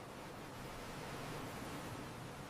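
Ocean waves wash onto a hidden sandy Pacific cove in a faint, steady, distant roar of surf with no distinct breaks and no voices.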